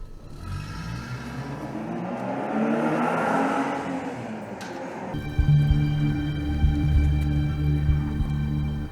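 Car engine revving and pulling away as a new car drives off, a rising engine drone that builds, then a louder steady run with sharp harmonic whine, no voices.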